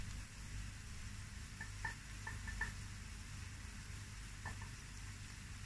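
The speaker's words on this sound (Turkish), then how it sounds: "Pembeleşene kadar soğanlarımızı soteleyelim." Onions sautéing in a pan with chili flakes and black pepper for a Swiss chard muhlama, a steady low sizzle with a few soft stirring clinks, close and alone without talk.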